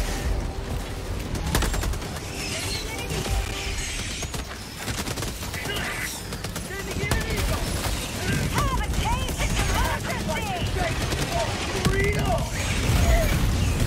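Gunfire in a shooting session aimed at cockroaches, with sharp bursts and cracks mixed with mechanical clicks and rattles, heard alongside people talking and exclaiming nearby.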